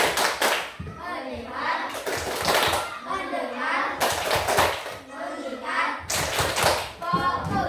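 Children in a classroom perform a rhythmic clapping routine called tepuk fokus, with bursts of sharp claps alternating with chanted words spoken in unison.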